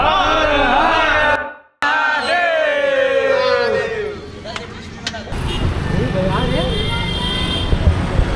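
Road traffic noise from inside a bus leaving Hyderabad for Srisailam, a dense, broad roar that grows heavier in the second half, mixed with passengers' voices and chatter near the start.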